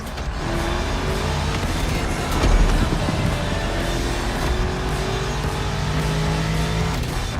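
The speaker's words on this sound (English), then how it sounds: "You're driving my #1 car, the star of my collection, the 1969 Mustang Boss 429." A 1969 Mustang Boss 429 engine in the racing game The Crew Motorfest, a loud, steady V8 drone that rises slightly in pitch as it accelerates, heard close and alone.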